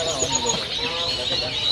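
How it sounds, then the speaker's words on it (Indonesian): A caged pancawarna songbird at a bird stall gives repeated thin, high chirping calls that carry steadily over faint background noise. "Ada stok burung pancawarna teman-teman ya. Ini sudah mulai rajin bunyi."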